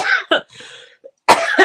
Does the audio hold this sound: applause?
no